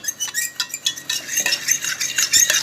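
A fork scrapes and clinks steadily against a pot or bowl, stirring and mashing a cooking mixture for chicken nihari to break up lumps, in quick repeated strokes with no talking.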